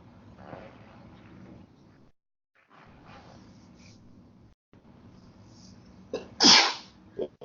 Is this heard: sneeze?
yes